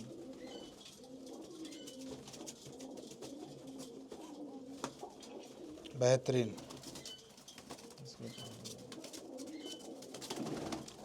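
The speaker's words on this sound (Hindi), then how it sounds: "अच्छा बड़ी कबूतरी है भी" Pigeons, including a large female, coo in a soft ongoing murmur while someone talks nearby, with one brief louder burst in the middle.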